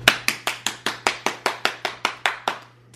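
A child claps at an ordinary, steady pace, about a dozen crisp, evenly spaced claps sounding close by and clear, with no talking.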